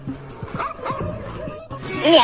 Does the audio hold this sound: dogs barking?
yes